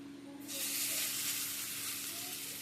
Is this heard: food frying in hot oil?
yes